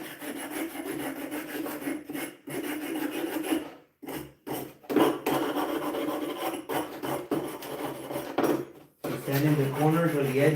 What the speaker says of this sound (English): I'm gonna go back to sanding right now.